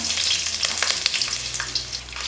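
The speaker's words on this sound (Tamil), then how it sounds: "சிக்கன் கிரேவிக்கு நல்லா எண்ணெய் ஊற்றி சட்டி காஞ்சிட்ருக்கு மசாலா போட்டு" Steady, loud sizzling of cloves, cinnamon and green chili frying in hot oil in a pan for chicken gravy, crackling continuously with no voices.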